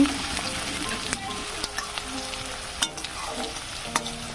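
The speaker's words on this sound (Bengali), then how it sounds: "রসুন এদিকে দিয়ে ভালো করে ভেজে নিচ্ছি" Chopped onion and garlic fry in mustard oil with bay leaves for a pork curry. A close, steady sizzle runs under frequent sharp clicks and scrapes of stirring, with no voices.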